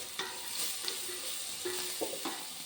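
Gooseberries are stirred and fried in a hot pan, with a steady oily sizzle and several clinking scrapes of a spoon against the metal, close and alone.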